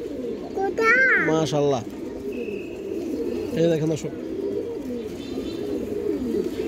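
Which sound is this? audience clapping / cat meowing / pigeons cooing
pigeons cooing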